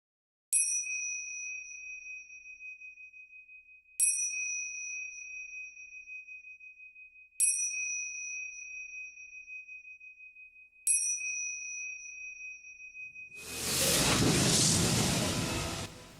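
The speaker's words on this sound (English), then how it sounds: "the unease created by the intro's lack of music and instead only the sound of bells" Bells ring with no music in the intro of the Izanami fighting video game trailer. Four clear, evenly spaced bell strikes each ring out and slowly fade, then a loud rushing burst of noise takes over.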